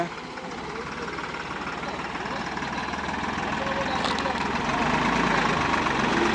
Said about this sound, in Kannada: ನೋಡಿ ಟ್ರ್ಯಾಕ್ಟರ್ ವಾಟರ್ ಕ್ರಾಸಿಂಗ್ ಮಾಡ್ತಾ ಇದೆ